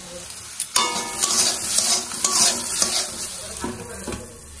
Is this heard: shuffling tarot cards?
no